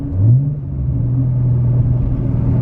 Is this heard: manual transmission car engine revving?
yes